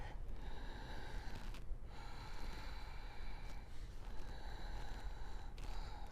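Steady breathing while holding a low lunge in a vinyasa yoga flow: long, even, hissing breaths close to the mic, with a couple of brief pauses between breaths and a constant quiet background hum.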